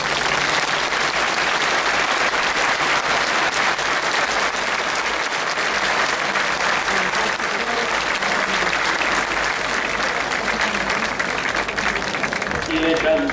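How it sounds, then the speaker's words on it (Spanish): A large crowd at a Virgin of the Miracles feast day gives the Virgin statue a long, loud, sustained round of applause that stays close and full throughout, with scattered voices mixed in beneath the clapping. "La recibimos con un aplauso grande."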